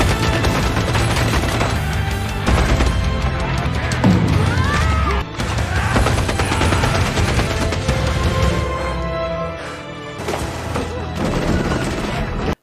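A Gatling gun fires in a Hollywood action film scene with Indonesian actors, with dense rapid bursts, crashes and impacts layered over a loud dramatic score throughout.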